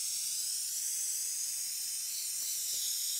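A gas torch flame hisses steadily while brazing copper air-conditioner pipe, a loud continuous close rush of bright noise with only faint faint clicks beneath.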